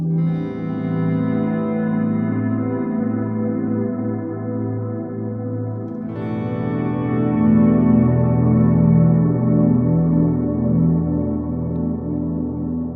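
Sustained electric guitar notes through stacked delay and reverb pedals, a dense, smeared wash of repeats that swells when a new chord is struck midway, played alone with no talking.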